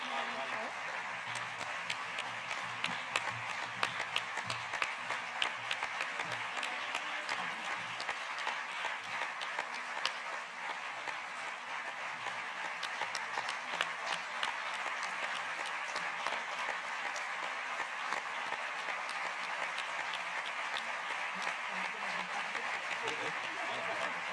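A conference audience applauds at a closing session, with dense, continuous clapping at a steady level throughout, fairly quiet and distant, while people talk over and under the sound.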